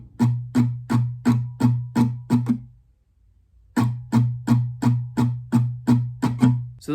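Acoustic guitar playing strumming pattern 4 from the bridge of the song, two runs of quick steady strums broken by a brief gap, close and loud, played alone.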